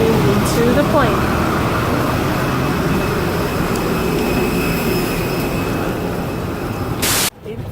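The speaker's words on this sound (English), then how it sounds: "In flight right now on our way to Boston, and then we'll be connecting from Boston to Atlanta." Loud, steady jet airliner cabin roar in flight, en route to Boston, with a broad constant drone and faint tonal whines. The sound cuts off abruptly near the end.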